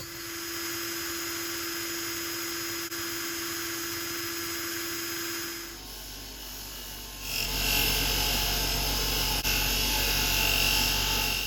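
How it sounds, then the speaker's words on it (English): A motorised buffing wheel polishes parts of a Peugeot PX-10 bicycle during a restoration, giving a steady close whine whose pitch rises and grows louder partway through as the part is pressed against the wheel. "So the buffing wheel will bring that shine back again."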